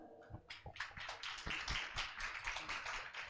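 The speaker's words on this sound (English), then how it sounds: "give a big applause for this keynote speaker" Conference audience applauding a keynote speaker: dense, sustained clapping from many hands filling the room, steady and fairly loud throughout.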